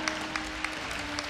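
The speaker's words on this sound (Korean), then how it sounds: "다시 한번 박수 부탁드립니다" A brief renewed round of applause from the audience at a Korea University 2018 freshman entrance ceremony, a soft, distant wash of many hands clapping in a large hall, with a few sharper claps standing out.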